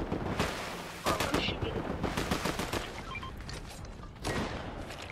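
Rapid video game gunfire bursts, automatic shots in dense volleys with louder flurries near the start, around one second and after four seconds, under excited player voices.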